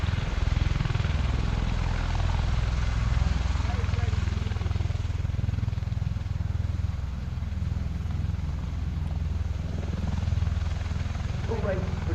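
A Bell-Boeing MV-22B Osprey tiltrotor of the US Marines flies a power demonstration at an air display, a loud, sustained rotor-and-engine roar with heavy low thrumming that holds steady throughout, while a voice narrates over it.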